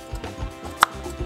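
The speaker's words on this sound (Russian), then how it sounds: "Также из картошки можно очень удобно нарезать кубики." A Borner Classic manual vegetable slicer cuts potato into cubes, giving a series of soft, irregular chopping thuds with one sharper click near the end.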